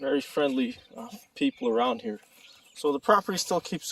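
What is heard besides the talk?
None of the usual background noises is heard.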